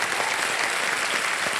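Short burst of continuous studio audience applause on the quiz show KBC, even and steady with no talk over it.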